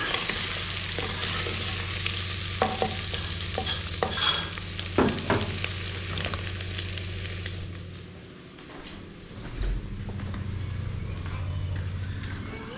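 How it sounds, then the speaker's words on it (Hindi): Desi chicken stirred while frying with spices in a pan: a steady sizzle under repeated spoon scrapes and clacks, with a person talking over it and a quieter lull partway through. "इसको भी अब थोड़ा सा हिला लेते हैं।"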